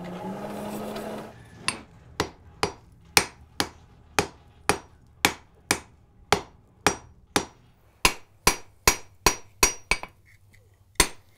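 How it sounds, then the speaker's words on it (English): A hammer strikes rusty wrought iron on an anvil, forging stock for a door bolt staple: about twenty sharp, ringing blows in a steady rhythm, some in quick clusters, loud and close. "So the first thing I'm going to do is forge the end out into the proper sized stock for the staple"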